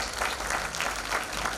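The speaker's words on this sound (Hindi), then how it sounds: "जोरदार ताली हो जाए" A school audience claps loudly and steadily, a dense wash of applause from a crowd at a student pitch event, close and continuous for the whole moment.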